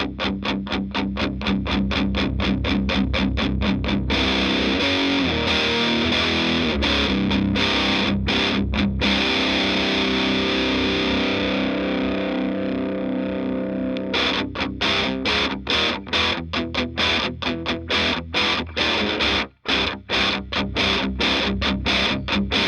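A distorted electric guitar through a Randall Thrasher 50 amp playing fast chugging chords, the gritty tone thickening as the gain knob is turned up, with a sustained passage in the middle.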